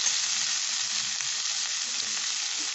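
Kebab and onion fry in butter with a dense, continuous sizzle, close and even throughout, broken only by faint stirring scrapes.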